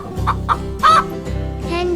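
Hen clucking in a farmyard: a few short, bright clucks spaced apart, then a louder drawn-out squawk, heard up close over a low background hum, with no talking.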